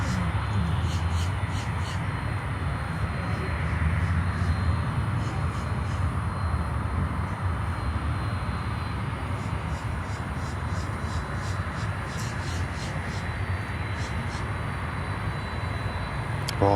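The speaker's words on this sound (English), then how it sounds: "LATAM Cargo 767-300." LATAM Cargo Boeing 767-300 jet at Miami airport, a broad, steady engine roar and rumble that holds loud throughout, with faint high whine above.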